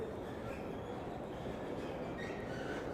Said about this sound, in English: So here we have the subway.